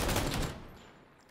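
A video game M249 machine gun fires a dense, loud burst of rapid rounds that trails off into echoing decay within a second or so, with no voices.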